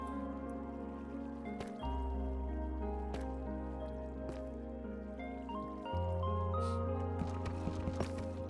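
Water drips from a leak near a flooding risk, soft wet squishes and drips scattered over a steady low hum, with a few sharper taps toward the end.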